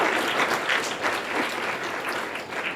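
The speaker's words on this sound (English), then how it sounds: "let's give Hollywood Athletics Club a huge round of applause." An awards-ceremony audience claps in sustained, dense applause, a steady wash of many hands from start to finish.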